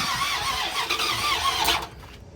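A 1996 Dodge Ram 1500 pickup with a V8 Magnum engine cranks without catching, a steady whirring turnover for about two seconds that then cuts off, heard up close and loud.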